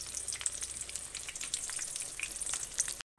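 Eggplant slices sizzling steadily in hot frying oil, a dense crackle with scattered pops, close and continuous before cutting off abruptly at the end.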